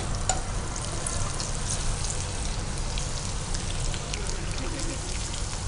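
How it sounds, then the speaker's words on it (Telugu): Okra fries in hot oil with a loud, steady, dense sizzle that crackles evenly throughout, like close rain. "సో దీంట్లో మనం మంచిగా ఫ్రై చేసేసుకోవాలన్నమాట బాగా."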